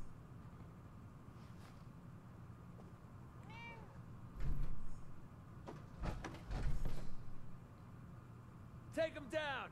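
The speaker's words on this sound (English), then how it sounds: "There's a kitty cat!" Housecat in Fallout 4 meowing a couple of times inside a cottage, short rising calls around the middle and again near the end, amid game ambience, a door slide and a voice talking.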